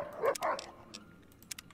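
A dog barks in Fallout New Vegas, giving two close yips in quick succession followed by softer scattered game sounds.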